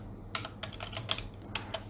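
Keys clack on a computer keyboard as a network command is typed, a quick irregular run of close, crisp taps lasting about two seconds.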